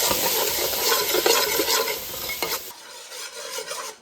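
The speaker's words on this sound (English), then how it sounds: "I'm going to just simmer these veggies for, I don't know, a good 5 minutes or so." Garlic and vegetables simmer in a pot for Italian sausage tortellini soup, giving a close, loud sizzle. Vigorous stirring scrapes over it, and the sound drops off sharply partway through, leaving softer stirring. No one speaks.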